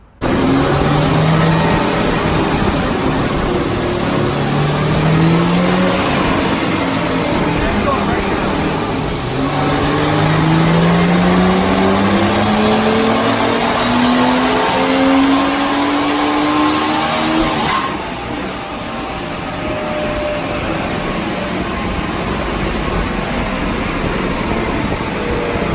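A BMW M235i tuned with a JB4 and running E30 fuel on map 7 pulls hard, loud and close, with engine pitch climbing through several gear pulls and brief drops at the shifts.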